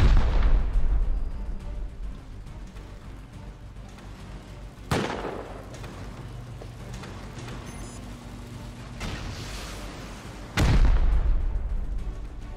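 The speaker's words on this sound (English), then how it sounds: "But they're just shooting incin rockets on the walls." Incendiary rockets slam into base walls in a steady barrage. Three heavy booming impacts come several seconds apart, each one trailing off into a rumbling, crackling wash.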